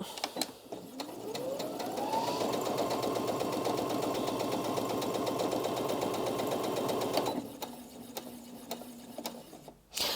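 A Brother Disney Innov-is M380D sewing and embroidery machine starts up, stitches at a fast, steady mechanical whir for several seconds, then stops, leaving a quieter hum.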